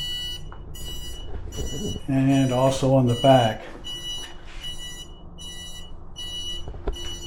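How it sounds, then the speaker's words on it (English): An e-bike's turn signal beeps steadily at an even rhythm, a close, bright tone pattern continuing under a man's speech. "they make noise when you hit the turn signal"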